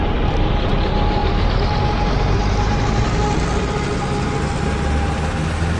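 Steady engine drone of an R22 helicopter with its rotor engaged by the clutch, in a VR flight simulator game, a dense continuous low rumble with a faint whine, loud and unbroken throughout.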